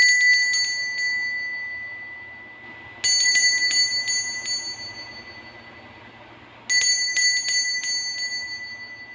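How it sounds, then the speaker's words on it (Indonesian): A bell is struck three times at even intervals, each a bright metallic ring with a sharp attack that fades slowly before the next strike, clear and alone. "Kita akan melanjuti dengan ditandai lonceng berbunyi."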